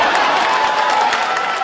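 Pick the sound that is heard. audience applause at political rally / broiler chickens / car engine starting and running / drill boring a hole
audience applause at political rally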